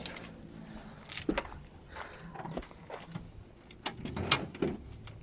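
A car door on a Fiat Uno 70 is opened by hand during repair work, giving a few close, sharp clicks and clunks of the latch and hinge over a quiet, faintly noisy background.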